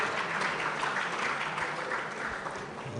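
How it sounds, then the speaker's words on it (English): Audience applause fills a summit hall at an employers' summit in Nigeria, a steady, dense crowd clapping that holds evenly for about three seconds with no voices over it. "Please, let's give yourself a round of applause, please."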